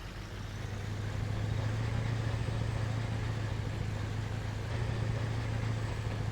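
A pickup truck engine in Farming Simulator 22 straining while towing a heavy load, a steady loud droning hum with a constant low tone and no talking.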